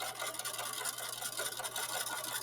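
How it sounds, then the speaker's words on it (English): A sewing machine stitches a short side seam in fabric, a steady close whirring run with a low motor hum that never stops across the whole stretch. "bring the pressure foot back down, and I continue sewing"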